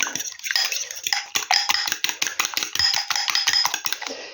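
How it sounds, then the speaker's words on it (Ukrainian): Eggs beaten with starch using a fork in a bowl, rapid rhythmic clinking and tapping of metal against the dish, close and steady with no voice. "І гарнесенько зараз вилочкою отак мішаю їх тут з тим крахмалом"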